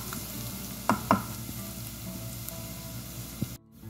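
Garlic fries in a pan, a soft steady sizzle with a couple of brief metallic scrapes of stirring, ending abruptly.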